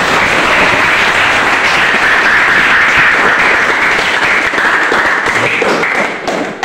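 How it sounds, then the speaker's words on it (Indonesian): A room of teachers at an academic supervision coaching session claps together, loud, dense applause sustained for several seconds before tapering at the end. "Ayo kita berikan aplaus untuk kita semua"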